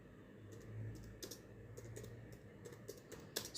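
Computer keyboard typing an SQL query, a quick run of close, crisp key clicks in uneven bursts, ending in a few sharper, louder strokes, with no talk.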